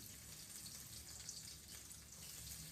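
Onion and chili frying in hot oil give off a faint, continuous crackling sizzle at low volume with no other sounds.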